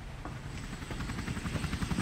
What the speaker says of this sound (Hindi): ऑल राइट, हेलीकॉप्टर आ गए भाई साहब।